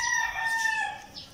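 A rooster at a neighbouring house crows once, a brief, faint call carried from some distance.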